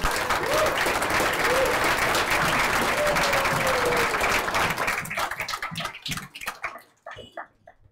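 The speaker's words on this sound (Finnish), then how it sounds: "annetaan aplodit talkooporukalle" Audience applause for a volunteer crew at a players' meeting, dense sustained clapping with a whistle, then thinning to scattered claps and dying out.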